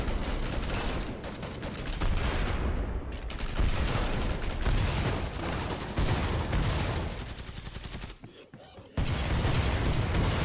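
Explosions and gunfire in Killing Floor 2 on hard mode, a dense, continuous barrage of booms and shots with a short lull near the end.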